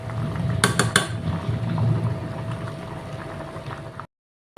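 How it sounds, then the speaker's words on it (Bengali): Dry khichuri with bhog rice and mutton fat bubbles in a pot at a rolling boil, a steady soft bubbling hiss with a few quick metallic clinks early on, before it cuts out abruptly. "দেখেন বলক চলে আসছে"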